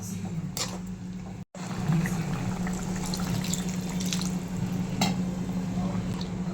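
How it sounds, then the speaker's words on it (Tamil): Water is poured steadily into a pan of prawn masala, a continuous splashing gurgle with a brief cut near the start. "இப்போ நம்ம தேவையான அளவுக்கு தண்ணி ஊற்றிக்கலாம்"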